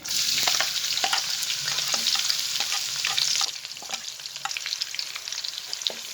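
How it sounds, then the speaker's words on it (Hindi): Onions frying in a pan with light brown cumin seeds, a steady loud sizzle with occasional stirring clicks, easing slightly partway through. "अब हम इसमें प्याज ऐड करेंगे।"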